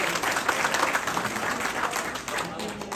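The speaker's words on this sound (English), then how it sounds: "So give yourself a round of applause" Applause from an audience at a New York community family night, steady and fairly close for about three seconds, fading a little near the end.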